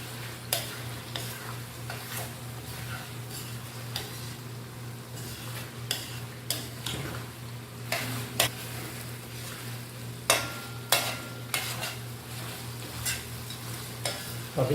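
Shinwari karahi being stirred in a pan: a spoon scrapes and clinks against the metal at an irregular pace over a steady low sizzle of frying, fairly quiet, with no voices.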